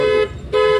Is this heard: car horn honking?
yes